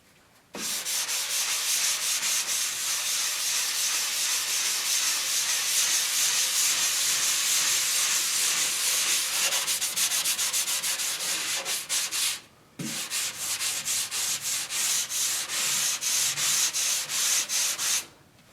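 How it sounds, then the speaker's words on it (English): A drywall patch is sanded by hand with long, steady abrasive rubbing strokes, close and loud, continuous except for a brief pause midway. "So we'll just go ahead and sand this out."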